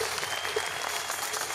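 An audience applauds at a MasterClass Boot Camp event, dense steady clapping throughout the short moment.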